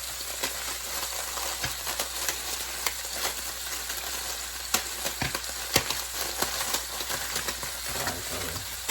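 Ground beef frying and being broken apart in a pan for homemade nachos, a continuous sizzle and crackle with frequent scraping and tapping of a utensil against the pan.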